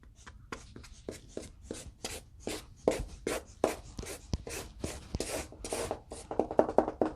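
A pencil or marker sketches sand texture on paper for a beach ball drawing, with quick, rhythmic scratchy strokes and dabs repeating close up in an irregular series.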